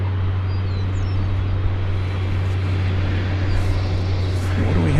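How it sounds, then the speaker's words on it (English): A large Airbus A300 arriving at DFW Airport gives a steady, continuous jet rumble with a strong low drone throughout, moderately loud and without a break. "It's a large Airbus A300."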